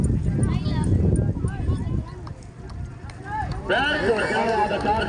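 Hoofbeats of horses galloping in a race, a rapid rhythmic clatter at a distance, mostly masked by crowd noise, a loudspeaker announcer and a busy, reverberant open-air crowd.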